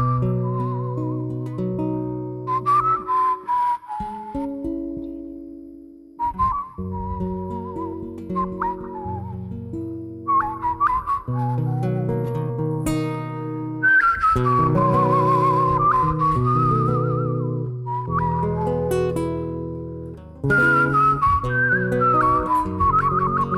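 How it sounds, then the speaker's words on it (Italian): A person whistles the melody of O Sole Mio alone, clear sustained notes rising and falling in phrases, with short pauses between lines and no talking. "io gli chiedo di fischiare per noi O Sole Mio."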